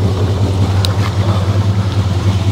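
A steady engine idling left running, a low continuous rumble with a strong low hum, close and loud, with a faint brief click partway through.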